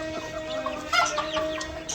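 Several hens cluck and murmur close by, short throaty calls overlapping against a steady background hum.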